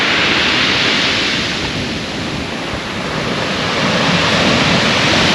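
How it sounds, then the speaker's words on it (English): Huge ocean waves pound the base of the cliffs on the Holderness Coast at Aldborough, a continuous loud roaring wash of surf heard from about thirty feet up the cliff, swelling and easing slightly with no voices. "There's some right massive waves coming in."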